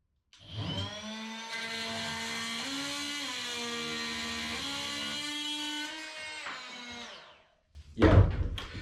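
A high-pitched Metabo HPT oscillating multi-tool whines steadily for several seconds cutting through a nail, its pitch shifting slightly as it bites, then stops, followed by a brief loud clatter.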